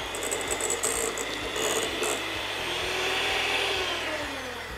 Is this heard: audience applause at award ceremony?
no